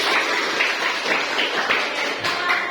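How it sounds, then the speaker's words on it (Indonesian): A school class gives a round of hand clapping in a classroom: a continuous, fairly loud patter of many hands with small swells, lasting the full stretch, close by and without speech. "Tepuk tangan dulu."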